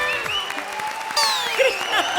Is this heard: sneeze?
no